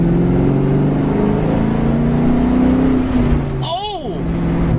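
Ford Mustang Cobra V8 with a Flowmaster 40 series exhaust gives a steady, deep, loud rumble throughout with no sharp rev spikes, and a brief high chirp near the end.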